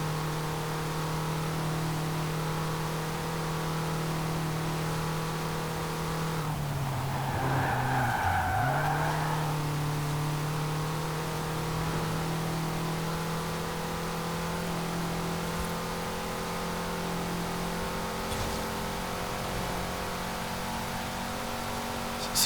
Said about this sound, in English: I'll just let you listen to the engine for a little bit,